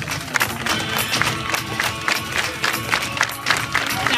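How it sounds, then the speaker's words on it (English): Crowd at a beach party at a water park clapping along to the beat, loud rhythmic claps repeating at a steady pulse amid general crowd noise and cheering. "clap your hands to the beat"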